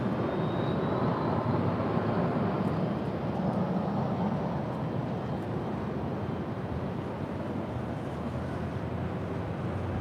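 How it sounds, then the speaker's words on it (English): A Delta Air Lines Boeing 737-900ER arriving from San Francisco lands with a steady, loud, broadband jet roar that holds without a break and never fades away. "This is Delta Airlines 1721 coming in from San Francisco. It is a 737-900 ER."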